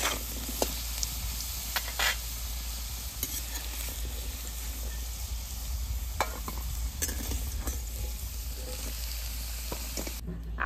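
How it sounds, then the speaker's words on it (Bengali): Potatoes frying in oil in a home kitchen and being stirred, with a steady sizzle under repeated scraping stir strokes close by, no talking. "আলুগুলো ভেজে নিয়েছি ভালো করে,"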